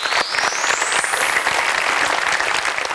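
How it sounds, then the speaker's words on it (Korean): A studio audience at a televised lecture show breaks into loud, sustained applause, dense clapping filling the room for several seconds with a faint whistle-like tone sliding above it. "박수 한번 보내주세요"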